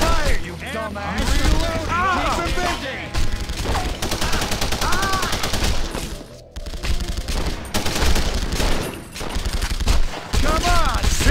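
Bursts of rapid gunfire and explosive shots in The Punisher video game, loud and repeated throughout, overlapping game effects and voices.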